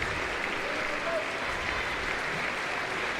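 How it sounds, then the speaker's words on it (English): Baseball stadium crowd at a college game between Ole Miss and LSU, a steady wash of cheering and applause holding at an even level throughout, with a voice faintly underneath. "This crowd's going to be a little more animated, it sounds like, here for game 2."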